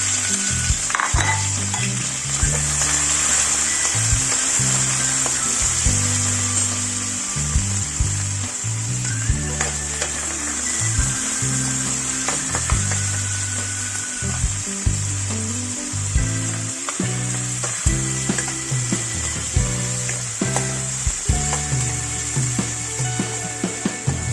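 Onion and garlic fry in a pan with a constant close sizzle, punctuated by clattering stirs and knocks from a utensil, and no talking.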